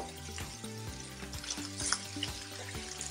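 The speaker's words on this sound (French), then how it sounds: "avec l'huile de cuisson, on ajoute immédiatement les oignons" Onions frying in cooking oil, a close, even sizzle that carries on throughout under steady background music, with no talk.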